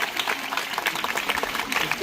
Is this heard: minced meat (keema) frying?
no